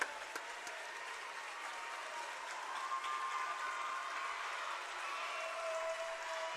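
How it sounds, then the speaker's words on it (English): Home crowd at a middle school girls' basketball game giving a standing ovation, steady sustained applause filling the gym at moderate distance, with faint cheers and scattered voices underneath. "As they get a standing O from the home crowd."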